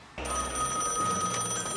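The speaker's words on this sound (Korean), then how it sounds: "잠시 후 전화가 걸려오고" A telephone bell starts ringing abruptly and continues as a steady, loud, jangling ring for over a second and a half before cutting off, with no voices over it.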